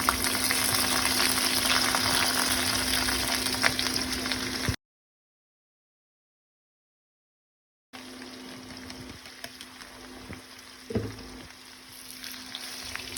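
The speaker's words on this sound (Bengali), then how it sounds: "শাকটা দিয়ে ভালো করে নেড়ে চেড়ে পেঁয়াজ রসুন শুকনো মরিচ সব কিছুর সাথে মিশিয়ে নিতে হবে" Bottle gourd greens fry in a pan with browned onion, garlic and dried chilli, giving a steady close sizzle that cuts off partway, then returns a little quieter with stirring noises.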